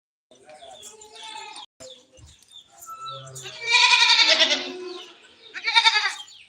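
Goats bleating on a farm in a few loud, wavering calls, one drawn out and another shorter, with people talking nearby between and under the calls.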